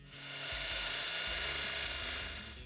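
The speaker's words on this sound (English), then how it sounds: "we're grinding on the mill" Abrasive grinding on a milling machine while making machinist's V-blocks, a steady high-pitched whine and hiss with a rough, gritty texture, loud and close, swelling in and easing off over a few seconds with no talking.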